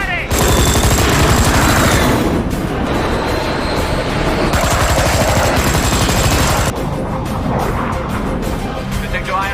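Aircraft gunfire during a dogfight scene in a 2019 war film, a loud dense rattle of rapid bursts with roaring engine noise and a brief drop between volleys.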